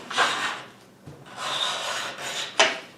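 A hand scraper drags across wood, lifting away excess dried glue in three broad rasping strokes with brief pauses between them, close and fairly loud, with no talking.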